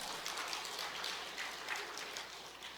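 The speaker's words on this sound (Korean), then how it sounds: "박수 한번 쳐주세요 여러분." Applause from a church revival crowd, a dense spattering of claps that stays fairly even and full for the whole stretch, with no voices over it.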